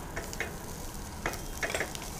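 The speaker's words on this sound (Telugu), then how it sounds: "కొంచెం ఫ్రై చేసుకున్నామండి," Mutton frying in a kadai with cumin powder and chilli powder masala, a steady close sizzle with scattered stirring scrapes and clinks.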